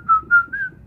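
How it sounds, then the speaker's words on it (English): Short whistled tune through newly fitted dentures, three clear sustained notes in quick succession, close and fairly loud, with faint room hum underneath. "I can even whistle."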